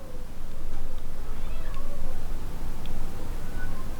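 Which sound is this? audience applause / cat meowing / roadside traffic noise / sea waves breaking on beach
cat meowing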